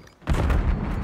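Grenade blast in the shooter Black Ops 6, a single heavy low boom that hits suddenly and rumbles on for about a second, loud and close with no talk over it.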